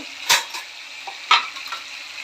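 Ingredients for tamarind pulusu fry in a pan with a soft steady sizzle, broken by two sharper clinks of a spoon or spatula against the pan, close and alone.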